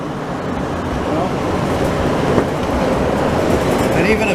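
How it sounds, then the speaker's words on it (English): A Bombardier-built Montreal metro train runs with a loud, steady broadband roar and rumble, heard from inside on a ride between stations, with faint clatter and a voice talking over it. "These trains, you know, they were all built by Bombardier"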